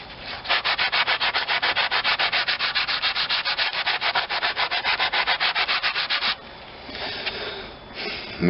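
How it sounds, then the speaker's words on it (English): Sander working over dead, gummed-up paint on the metal of a bus, once-chromed panel, giving fast rhythmic rasping strokes for about six seconds, then quieter scraping and handling noise. "Maybe a better sander would help."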